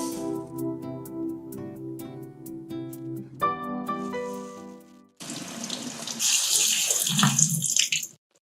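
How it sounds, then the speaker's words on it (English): Cold tap water runs over yellow lentils as they are rinsed, a steady splashing stream in a sink. Soft music plays before the water starts. "Begin by rinsing 1 cup of yellow lentils under cold water."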